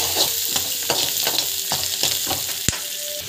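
Loud, close sizzling from a pan where asafoetida and roasted gram dal are being sautéed, with a run of rhythmic scraping stirs and one sharp knock near the end.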